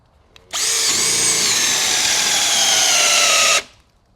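A Bauer 20 volt lithium cordless drill revs up sharply and runs at a steady high-pitched whine for about three seconds, close and loud, then cuts off.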